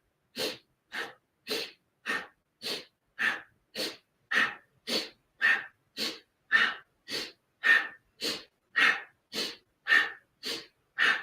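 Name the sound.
heart pranayama breathing, repeated inhale and exhale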